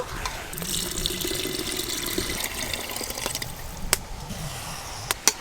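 Milk is poured into mutton curry cooking in a pot, giving a steady, soft stream of liquid with a couple of sharp clinks near the end.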